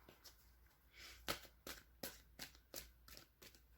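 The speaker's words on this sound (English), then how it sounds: "One more shuffle." Tarot cards are shuffled, a quiet, close series of crisp riffling snaps and soft slides, roughly eight sharp bursts spread unevenly across a few seconds.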